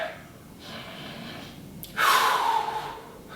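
Heavy breathing during a held exercise position, a few deep breaths followed by a loud, close sharp exhale or gasp that trails off.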